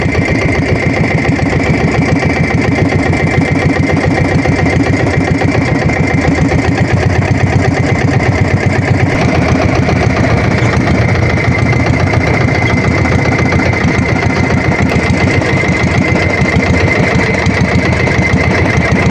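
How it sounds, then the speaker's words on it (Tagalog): A festival launch's engine runs steadily during a river fluvial parade, a continuous loud idling drone with a strong low rumble and mid hum, close by and unbroken throughout. "Nakikita na rin po namin na maandar na rin po ang lansya."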